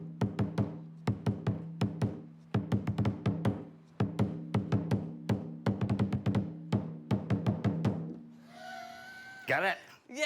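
Close, booming strikes on a lion dance drum run through a longer pattern, quick clusters of hits linking three rhythms together for about eight seconds, then stop. A voice follows briefly near the end.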